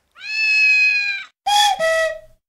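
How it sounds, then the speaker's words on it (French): A kitten, a baby cat, gives two loud, close meows: a long, drawn-out call, then after a short pause a shorter call that breaks in two. No other sound is heard. "C'est le chaton, le bébé chat."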